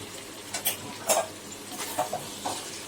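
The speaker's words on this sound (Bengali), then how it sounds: "ভালো করে আরেকবার একটু মিশিয়ে নিই নুনটা আর গরম মশলার গুঁড়োটা" A spoon stirs salt and garam masala powder into a pan of Bengali-style chicken curry, giving a few soft scrapes and knocks against the pan, spaced about half a second apart, close and moderately loud.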